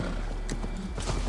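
Horse hooves clip-clop in a farming video game, a quick run of close, even hoofbeats over a steady background.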